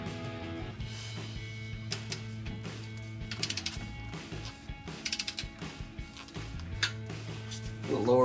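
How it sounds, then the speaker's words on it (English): A torque wrench tightens muffler bolts on a 2019-2024 Silverado or Sierra 1500 fitted with an aFe Apollo GT Series 3-inch direct-fit muffler; close ratchet clicks come in short runs over a steady low hum. "We'll set my torque wrench at 45."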